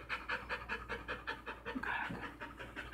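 A puppy panting close by in quick, rhythmic breaths that continue steadily throughout, with faint human sounds in the background.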